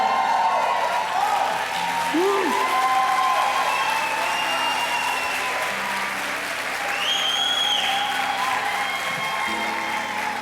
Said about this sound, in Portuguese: quero ver esses aplausos aí na mudança